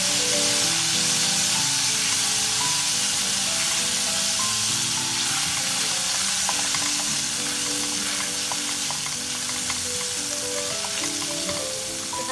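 Mutton trotters curry masala sizzles and fries steadily in a hot pan, a continuous loud crackling hiss with faint stirring scrapes throughout.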